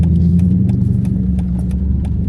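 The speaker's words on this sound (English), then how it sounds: "Good gosh, there's a bunch of traffic on this road today." Road traffic passing, a continuous low engine rumble from vehicles close by, steady and loud throughout with faint clicks above it, no talk.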